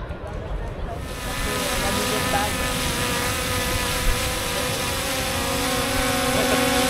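A motorboat outboard engine cranks and catches about a second in, then settles into a steady loud drone on the water, with people talking nearby.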